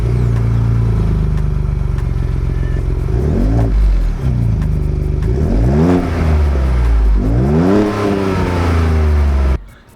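A Ford Bronco engine with a Roush exhaust tip, idling loud and close, then revved in three rising and falling bursts before cutting off abruptly.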